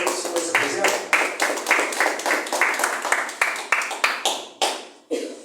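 Church congregation clapping for Jesus in a Portuguese-language service, a run of loud, evenly spaced group claps in a rhythmic beat, slowing and thinning toward the end with a last few separate claps.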